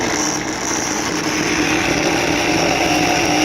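Failed drain pump from an LG WM2050CW washer running while plugged in, giving a loud, steady motor whir and buzz that holds unchanged throughout.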